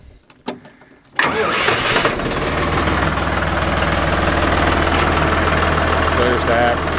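A John Deere 5203 tractor's diesel engine starts with a burst, then settles into a steady, rumbling low-throttle idle close by.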